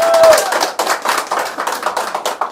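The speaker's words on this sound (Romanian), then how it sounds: "Îi dăm aplauze, o susținem!" A small group claps along during a home flower-delivery surprise for a mother, fairly close and loud, settling into distinct rhythmic claps after a brief tone at the start.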